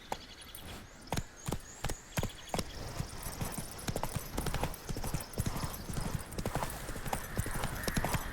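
Horse trotting in The Witcher video game, crisp clip-clop hoofbeats in a quick steady rhythm, close and prominent, with a brief neigh-like sound mixed in.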